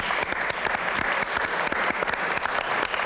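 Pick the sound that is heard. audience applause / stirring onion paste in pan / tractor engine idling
audience applause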